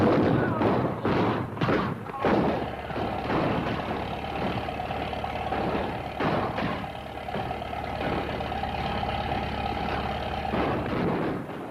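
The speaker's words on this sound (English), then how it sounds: "What's all that racket? Sounds like gunfire." A cannon fires during a rehearsal, several booming thuds in the first two seconds, then a steady low rumble that continues to the end.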